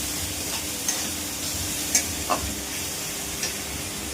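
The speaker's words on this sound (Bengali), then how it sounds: "এবার পেঁয়াজ কুচি আর রসুন কুচি আদা কুচি দিয়ে ভালো করে নেড়ে দিয়ে লবণ দিয়ে দিলাম" Chopped onion, garlic and ginger fry with salt, chili powder and coriander powder for a Bengali pui shak and shrimp dish, giving a steady close sizzle broken by a few sharp scrapes and clinks of stirring.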